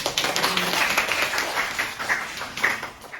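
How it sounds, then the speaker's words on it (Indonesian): A classroom of students claps together, a dense, fairly close patter of many hands that holds steady for a few seconds before thinning out. "Kita berikan tepuk tangan"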